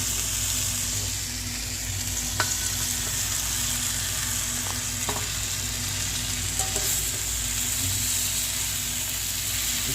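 Spices for a Bengali tangra fish curry sizzle and fry steadily in a pan while being stirred, with a few soft utensil clicks over a constant close frying hiss; no one talks.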